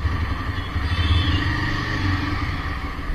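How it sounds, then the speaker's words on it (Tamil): A motorcycle on a food-delivery ride rumbles steadily and fairly close, with a rough, clattering engine note that barely changes through the stretch. "அதுக்கப்புறம் பைக் எடுத்து கிளம்பியாச்சு மக்களி."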